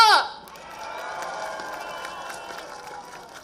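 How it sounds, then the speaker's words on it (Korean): A political rally crowd in Busan cheers and applauds for a presidential candidate, the roar starting loud and then settling into a sustained wash of clapping and shouts. "이제 이재명 후보님의 연설을 힘찬 박수와 함께 듣겠습니다."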